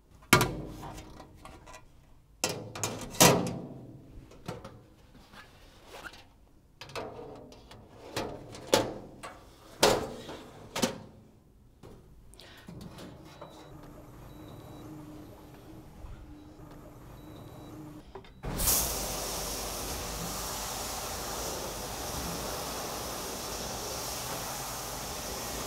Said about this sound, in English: I will start the live wash with washing two burnt GN 1x1 by using the specially